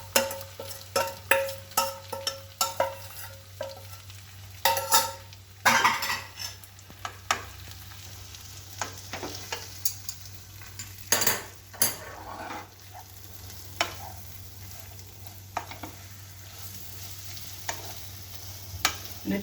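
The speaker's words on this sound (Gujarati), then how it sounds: "તબેથાની મદદથી બધું શાક હલાવી દઈશું" Boiled capsicum with a pinch of asafoetida is stirred in hot oil with a metal spatula, bringing sharp scrapes and clinks against the pan over a steady low sizzle, in irregular bursts throughout.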